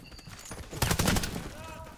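A rapid burst of gunfire during a Warface clan-war match, crackling hard in the middle of the clip and then thinning out under quieter game ambience.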